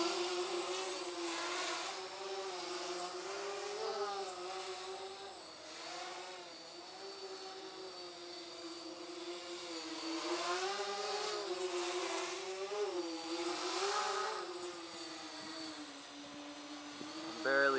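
A twin tricopter with a heavy wooden frame hovers close by on 3S power, its motors giving a steady buzzing whine that rises and falls with throttle changes, and a faint scraping where the tail rubs against the frame.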